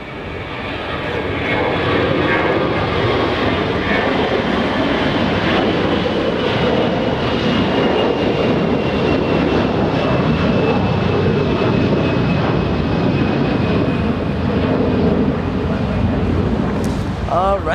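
An American Airlines Airbus A321 jet, delivered in 2013, takes off down the runway at Los Angeles International Airport, a loud steady roar that holds nearly unchanged throughout, close by, with no other sound standing out.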